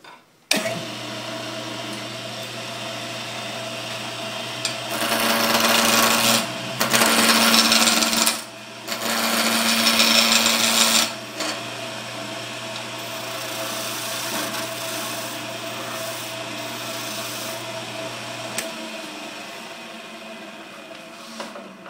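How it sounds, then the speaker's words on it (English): Wood lathe with a steady motor hum spinning a chair spindle while a spindle roughing gouge cuts in several loud, rough scraping passes, the hum running on alone between and after the cuts; no one speaks. "use a spindle roughing gouge for that"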